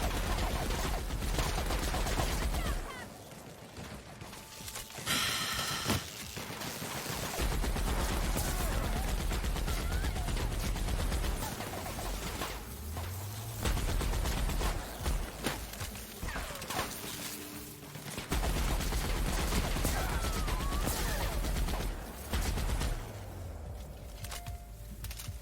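Gunfire in The Outer Worlds, the Murder on Eridanos expansion: bursts of shots crackle over a dense, loud game soundscape, with rapid volleys and steady background action throughout.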